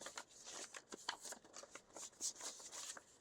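Paper money bills, broken into small denominations, are shuffled and mixed by hand, giving a run of quick papery riffles and soft flicks at close range, with no talking.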